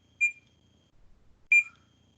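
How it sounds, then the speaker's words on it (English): A Datalogic barcode scanner emits two short, high, clean beeps while scanning barcodes, spaced more than a second apart against near silence. "you'll hear the beep"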